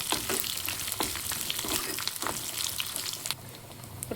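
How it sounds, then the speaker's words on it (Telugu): Cumin, dried red chillies, crushed garlic and curry leaves frying in hot oil for sambar, giving a continuous close sizzle with scattered pops and stirring clicks. The sound softens slightly near the end. "వేసి ఫ్రై చేయాలి."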